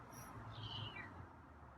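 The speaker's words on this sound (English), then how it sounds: "Not much of a meow, huh?" A feral cat gives a single faint, thin meow, quiet and somewhat distant over a low background hum, with no one talking.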